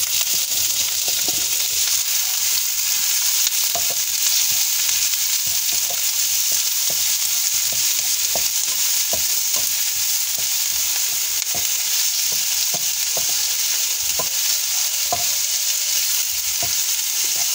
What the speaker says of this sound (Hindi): इसको कम से कम हम 1 मिनट तक के लिए अच्छे से भुनेंगे